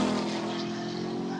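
A Ford Mustang GTD roars past in a flyby, a loud, steady, full-bodied exhaust drone that holds strong throughout the short moment.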